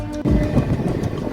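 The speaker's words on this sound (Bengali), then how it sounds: "ট্রেন কিন্তু ছেড়ে দিল আমাদের সাঁতরাগাছি থেকে" A local train pulls out of Santragachi station on the Howrah to Digha line, a close, low rumbling roll with rhythmic clatter that starts with a sudden jolt and continues steadily.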